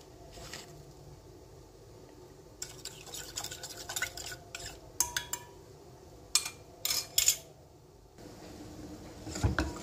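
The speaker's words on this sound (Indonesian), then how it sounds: "Kita aduk-aduk supaya tidak menggerundil ya bubur sumsumnya." Bubur sumsum porridge stirred in a pot makes soft scraping and sloshing strokes, close by. Sharper clinks of the spoon against the pot rim sound near the end.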